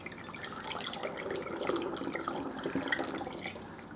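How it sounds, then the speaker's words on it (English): A homemade hair spray mixture pours through a funnel into a spray bottle, giving a soft, continuous liquid trickle and gurgle that swells slightly midway. The sound is quiet and close, with no speech. "So I have a spray bottle here, and we're just gonna use a funnel. And we're gonna pour the mixture right in."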